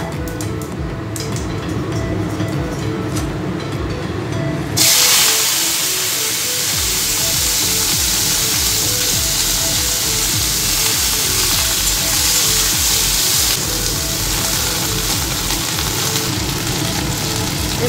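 Okra and whole cumin in mustard oil in a wok, a quieter sizzle that jumps to a loud, dense, hissing fry as the okra goes in, then continues steadily close with occasional stirring, no talk.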